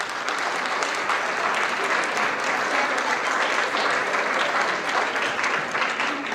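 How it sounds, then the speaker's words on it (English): At a junior school graduation party, an audience gives the graduates a sustained round of applause, dense even clapping holding steady throughout with no talk over it. "Would you please give a round of applause to our graduates"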